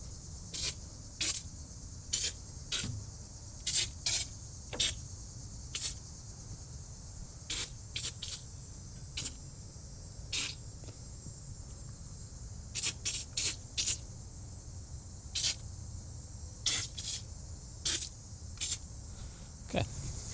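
Foaming cleaner is sprayed onto a dusty Jeep TJ engine in short, sharp hissing bursts, sometimes single and sometimes in quick clusters, repeating irregularly for about twenty seconds over a low background hum, with no voices.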